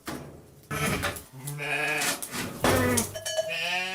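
Ewes bleating one after another during hand milking of sheep, loud and close with wavering, quavering calls overlapping across the whole stretch, no talking.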